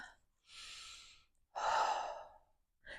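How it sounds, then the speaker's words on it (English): A person in a yoga pose draws a deep breath in and lets a long, audible breath out, close and clear, followed by the start of another breath. "Take a big breath here."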